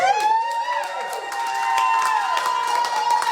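A crowd outside a Jasper County courthouse on a Tuesday night cheering a recall result, a sustained, loud wash of voices and whoops holding steady throughout.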